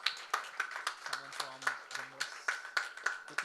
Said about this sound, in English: Can we have a big round of applause for Rimbus?